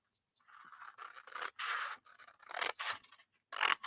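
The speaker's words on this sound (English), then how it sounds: "I'm just cutting down the score line" Close-up cutting of cardboard along a score line: a series of scratchy, rasping cuts in uneven bursts with brief pauses between strokes, no talking.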